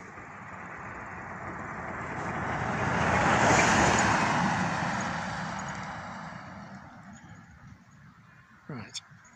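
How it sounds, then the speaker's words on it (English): A single car, likely a farmer's vehicle, approaches along a quiet country road in the Newlands valley, swelling to a loud tyre-and-engine rush as it passes close, then fading away, with a brief clatter at the end. "Having had that car go past"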